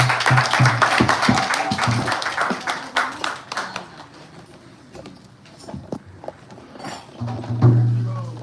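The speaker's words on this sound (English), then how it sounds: "let's give a big round of applause for Ramtith for one more time." Clapping from a gathering at a Balaram Purnima celebration, honoring a bhajan singer: sharp hand claps at first, thinning into scattered claps as the applause fades, with voices murmuring underneath.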